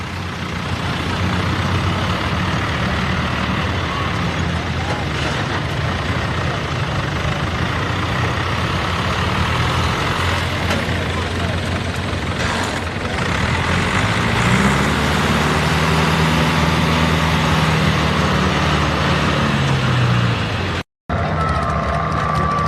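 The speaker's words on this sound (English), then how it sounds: "Next truck is Denver Martin." A dirt-track racing truck engine roars steadily at close range, rising and falling in pitch as it revs, then cuts off abruptly near the end.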